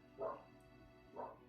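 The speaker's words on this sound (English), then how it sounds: "that's my dog barking in the backyard" A dog barks twice in a backyard, two short muffled woofs about a second apart, faint and distant against a quiet background.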